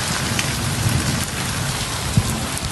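Steady rain pours down beside the flooded Sutlej River, a dense even hiss of drops hitting surfaces with no voices.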